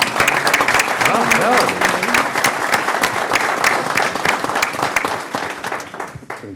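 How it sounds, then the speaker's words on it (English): Audience applause fills a county board of supervisors meeting, a dense steady burst of many hands clapping at close range that tapers off near the end. "Let's give them a round of applause."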